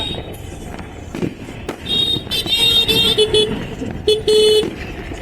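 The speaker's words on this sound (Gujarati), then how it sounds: "બધા ફટાકડા ફોડી રહ્યા" Diwali firecrackers bursting outdoors at a crowded public ground, sharp cracks and pops scattered through the clip amid car horns, traffic noise and a busy festive crowd.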